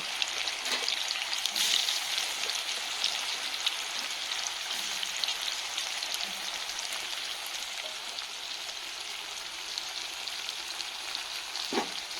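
Raw banana and potato pieces frying in hot oil, a dense, continuous close sizzle with a soft crackle, steady throughout with no talking.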